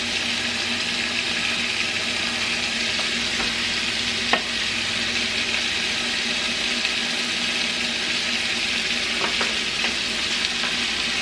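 Sliced jalapeno peppers fry in a pan with a steady, dense sizzle that does not let up, broken by a few faint clicks of stirring, and no voices.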